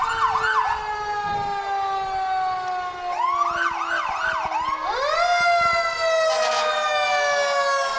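Fire truck sirens wail loudly in a small-town parade, several rising and falling tones overlapping and sweeping continuously without talk.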